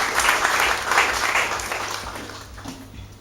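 A church congregation claps together in thanks to the Lord, a dense, sustained burst of applause that fills the space and slowly fades toward the end.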